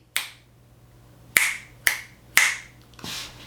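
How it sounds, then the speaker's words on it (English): Finger snaps ring out close and sharp, one alone and then three in a quick even run about half a second apart, followed by a softer fifth, over a faint steady hum. "It was funny to watch you snap your fingers like you were doing this."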